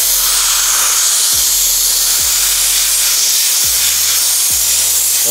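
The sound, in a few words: Dampf Drache 22170 dry steam cleaner hissing on a car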